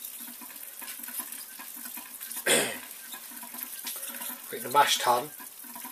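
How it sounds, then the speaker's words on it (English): Water runs steadily from a tap for all-grain brewing sparge water, a continuous close hiss and splash, while someone talks briefly over it. "And then opening the tap for the sparge water."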